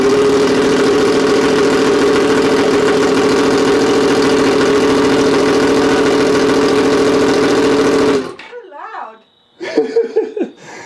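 A Yamaha FZ10 motorcycle with a loud aftermarket exhaust idles and revs steadily for about eight seconds, close and loud, then cuts off, leaving brief voices and laughter.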